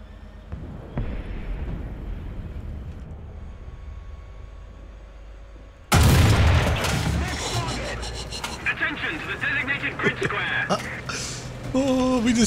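A War Thunder tank cannon goes off as one sudden, loud, close blast, followed by rumbling and clattering while a person talks over the game sounds.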